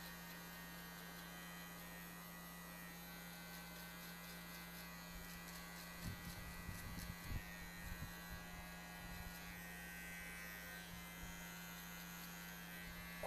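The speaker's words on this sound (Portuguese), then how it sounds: "usando a maquininha de acabamento normal mesmo, a maquininha inteira" An electric finishing hair clipper buzzes steadily and faintly while trimming a drop fade, its constant hum thickening briefly in the middle as the blades work through hair.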